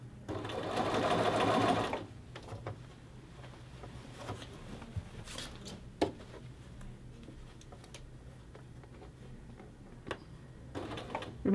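A sewing machine whirs in a short, loud run while attaching a collar band to a men's shirt, then stops, leaving quiet handling clicks and light taps before a brief restart at the end.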